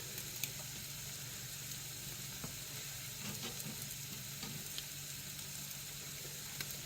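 Meat, likely steak, browning in a hot pan gives off a steady, fairly quiet sizzle with faint crackles scattered through it and no talking.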